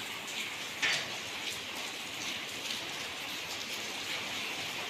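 A light monsoon drizzle falls in a village at the start of the rainy season, a soft, steady patter of drops that stays faint and even throughout, with no voices.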